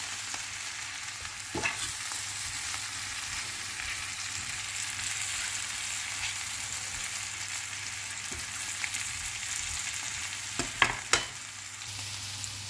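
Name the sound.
vegetables frying and being stirred in vegan coconut curry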